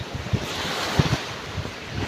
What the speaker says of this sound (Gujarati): આ દરિયાનો કિનારો છે અહીંયા ડાયરેક્ટ આમ પાણી આવે છે